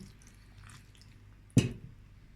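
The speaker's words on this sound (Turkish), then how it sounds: "Şöyle 1 yemek kaşığı zeytinyağı ilavesi yapalım." A spoonful of olive oil drops onto a pasta salad with a single soft wet splat, heard close and alone after a quiet, faintly rustling lead-in.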